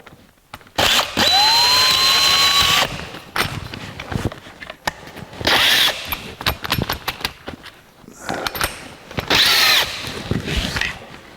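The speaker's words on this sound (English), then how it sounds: "But now we're ready to drill the hole." A power drill whines in three bursts while drilling a hole in steel plate on a 1982 Jeep CJ7 firewall, rising in pitch as it spins up, with clattering handling noise between runs.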